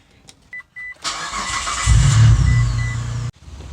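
A car engine cranks and catches after a radiator repair, a few clicks and a brief starter whir before it fires up, revs, and settles into a close, loud idle that cuts off abruptly.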